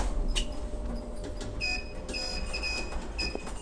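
Pickerings lift doors opening at the Riverside Park Hotel in Enniscorthy, a mechanical rumble with sliding clatter and a few sharp clicks and beeps, close and steady.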